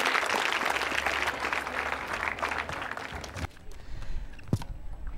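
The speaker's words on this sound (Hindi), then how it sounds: "त्रिशा के लिए तालियां जोरों से बजाइए।" A college audience applauds a quiz contestant at a women's engineering college in Ajmer, dense clapping lasting about three and a half seconds before fading into a quieter room with a faint thump.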